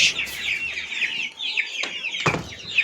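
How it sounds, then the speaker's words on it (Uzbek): A flock of 50-day-old chicks clucks and peeps continuously at close range, fairly loud, with a few short thumps and knocks in between. "Ellik kunlik jo'jalar bular"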